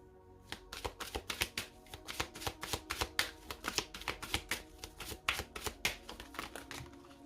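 A deck of oracle cards being shuffled and drawn: a fast, steady run of close, crisp card flicks and riffles with short pauses between.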